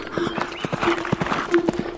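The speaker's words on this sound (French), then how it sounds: "Fais le cheval blanc qui galope face au vent." Rhythmic hoofbeats clop in a quick, regular pattern, close and clear, with a steady tone running underneath.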